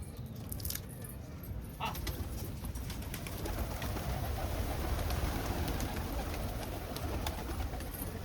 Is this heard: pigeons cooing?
yes